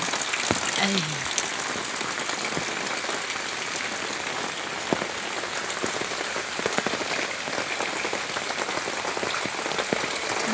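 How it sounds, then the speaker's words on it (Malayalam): Steady rain pours over an open home courtyard, a dense, even hiss of drops striking the wet ground with occasional louder splashes, continuous and close throughout. "മഴ പെയ്ത് മുറ്റമെല്ലാം"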